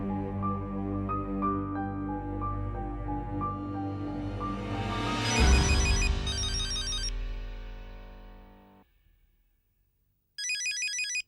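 A phone ringtone plays a melodic electronic tune with rising notes, swelling then fading out, followed by a brief pause and a second burst of the bright ringing tone.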